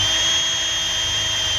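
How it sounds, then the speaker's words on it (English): A power drill bores holes for Coleman 17B friction hinges, giving a steady, continuous whirring whine at close range that runs unbroken for the whole moment. "Remember to keep your drill straight up and down as possible when you're doing this."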